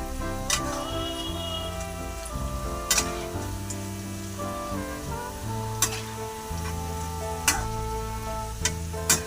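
Corn flour pakodas frying in hot oil, a continuous soft sizzle with occasional sharp ticks and clinks of a utensil in the pan, steady and close.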